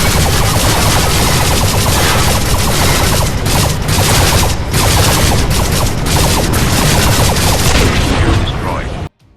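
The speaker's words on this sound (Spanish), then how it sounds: "quiero destacar el sonido de los disparos, láser, explosiones, sonido de las naves" Laser shots, explosions and spaceship noise from the space shooter video game Anshar Wars 2: Hyperdrive, a loud, dense, nonstop barrage of rapid-fire blasts and booms that cuts off abruptly at the end.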